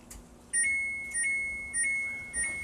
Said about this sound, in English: So the 30-minute timer's up.